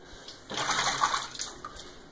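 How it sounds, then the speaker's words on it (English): Hot water from a kettle pours into a pan of mince, a short rushing splash of about a second rising out of quiet, fairly close and fading at the end. "I'm just going to add that from the kettle"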